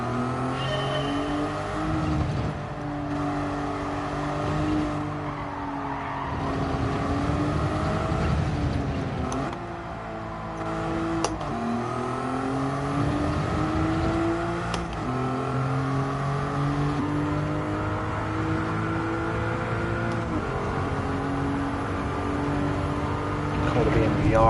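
A car with 557 PP driven in Gran Turismo 7 in VR gives a steady, loud engine drone that rises and falls through gear changes and revs across the whole stretch.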